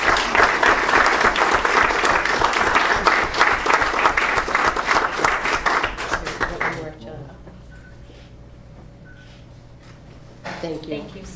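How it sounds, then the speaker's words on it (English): An audience at a Fanwood council meeting gives a round of applause, loud and continuous for several seconds before stopping abruptly, leaving a quiet room with brief talk and a few soft sounds afterward. "Please give them a nice round of applause."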